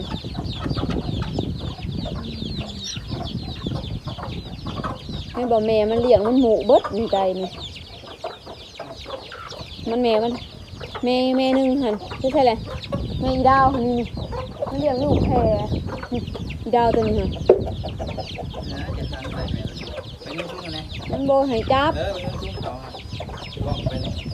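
Farmyard chickens cluck and squawk in repeated bursts, close and fairly loud, with an occasional crow, while a person talks over and between the calls.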